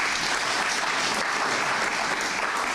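Another round of applause rises from an audience at a televised Botswana ceremony honouring a football administrator, continuous, even crowd clapping filling the whole moment.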